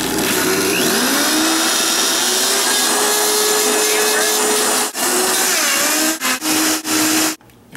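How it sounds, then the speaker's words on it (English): A loud blender whirs steadily at high speed blending a dandelion, strawberry and banana green smoothie, its motor pitch shifting slightly, then stutters in a few quick pulses before cutting off. "into the blender it goes"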